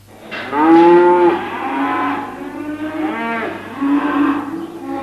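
Cattle on Kansas farmland give a long, loud moo followed by a second, softer lowing call, heard close with no talk over them.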